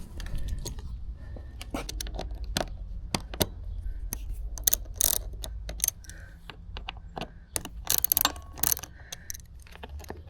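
Ratcheting and clicking of a Torx driver backing out the two bolts on a KTM 690 rear mud flap, close and crisp, in short irregular bursts over a low background hum.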